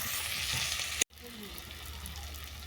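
Spices sautéing with potato and pumpkin in a pan, a continuous close sizzle with a brief break near the middle.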